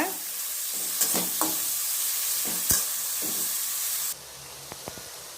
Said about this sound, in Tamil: அதில் கொஞ்சம் வெங்காயம் போடுறேன். இது வதங்கிறதுக்காக உப்பு போடுறேன்